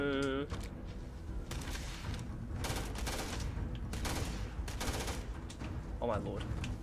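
Dense gunfire in Starfield, with repeated loud bursts of rapid shots over a constant noisy background of game combat.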